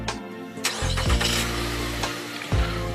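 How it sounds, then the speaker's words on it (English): A 2009 Nissan Altima with a 2.5 four-cylinder push-to-start engine is started remotely: a brief starter whir, then the engine catches and settles into a steady close idle, with a second start-up surge later. "Remote start works perfect in this."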